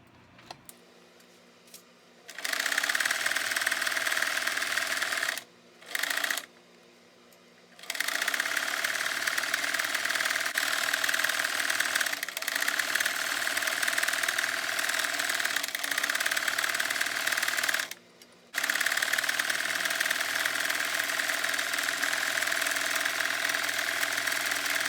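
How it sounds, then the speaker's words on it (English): A sewing machine stitches a fabric toe piece onto a striped pillow cover shaped like a sneaker, running loud and steady in long stretches of whirring with a few brief pauses, close up. "now it's just time to start sewing it together"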